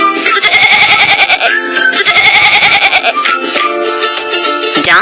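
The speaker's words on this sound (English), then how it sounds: "Goat." Wavering, harmonic bleats from a goat, two long loud calls followed by a shorter, quieter one, close by with no talking.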